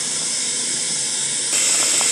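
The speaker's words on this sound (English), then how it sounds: "Our potatoes have started boiling." Steady, loud hiss and bubbling of potatoes boiling in a pot for mukimo, continuous with no talk, brightening slightly partway through.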